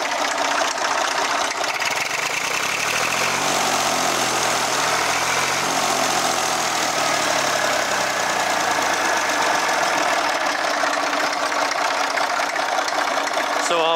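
A just-started engine, leaking oil and with a radiator still to shim, runs steadily and loudly for the whole stretch with a rough, knocking idle and broad mechanical roar.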